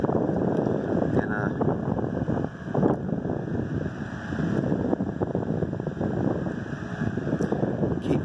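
A vintage 9-inch electric fan runs on high speed with a steady, loud, close whooshing whir of moving air and motor hum that holds constant throughout.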